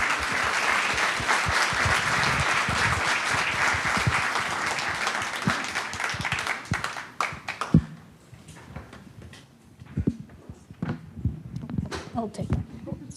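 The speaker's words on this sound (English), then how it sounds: "please, an applause to our panelists" Steady audience applause at a women in STEM panel event, loud and sustained for several seconds, then thinning into scattered claps, knocks and light movement as a few voices talk nearby.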